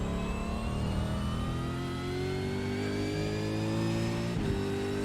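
Supercars race car engine in the iRacing simulator at Road America, a loud continuous high-revving drone with smoothly rising pitch as the car accelerates, then a quick shift near the end, with no voice over it.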